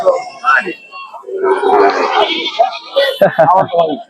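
Goats bleat at a busy rural goat market in Bangladesh, nasal cries rising over a loud crowd and close voices talking.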